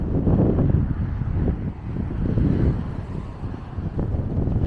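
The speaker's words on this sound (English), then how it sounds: "It's windy." Strong coastal wind in Reykjavik, Iceland buffets the microphone in low, rumbling gusts that rise and fall throughout, with no voices.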